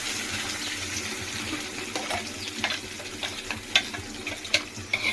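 Ingredients for brinjal kuzhambu sautéing in a pan give off a steady sizzle with wet, bubbling texture, while a few spoon scrapes and taps rise above it near the end.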